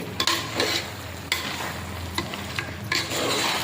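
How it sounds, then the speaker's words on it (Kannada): Chicken biryani mixture is stirred in a pot, with a continuous sizzle under repeated scraping strokes of the spoon against the pot, each stroke marked by a brief louder scrape. "ಒಂದು ಮಿಕ್ಸ್ ಹೊಡೀರಿ"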